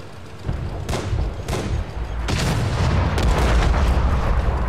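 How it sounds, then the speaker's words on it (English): A tank blows up in a World War II tank game featuring the Matilda, with several loud booming bursts that thicken into a sustained rumbling roar of fire and debris, no voices over it. "He fucking blew up"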